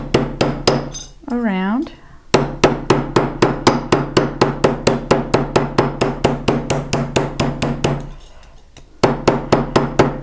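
A metal hammer strikes a metal sheet on an anvil in quick, even repeated blows, making sharp ringing clinks close up, with a brief pause and a short spoken word near the start.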